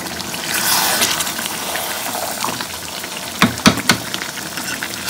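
Green mango pickle with sugar is stirred in a pan on a gas stove, a steady wet sizzle and sloshing under the spoon, with a few louder scraping knocks against the pan late on.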